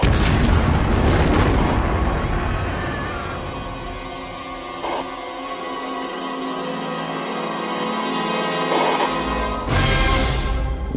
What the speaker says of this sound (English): We're just getting reports of a volcanic explosion.